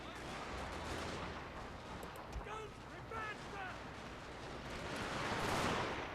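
Massed infantry volley fire in Total War Shogun 2: Fall of the Samurai, dense rolling rifle and artillery crackle with booms, continuous and loud, with faint voices and shouts mixed in.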